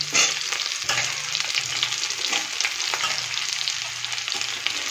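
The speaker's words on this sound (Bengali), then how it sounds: "এবার এর মধ্যে দিয়ে দেবো বেগুনটা।" Eggplant pieces hit a hot pan coated with ginger, chilli and mustard paste, bursting into a loud, steady frying sizzle that runs unbroken at close range, with a faint low hum underneath.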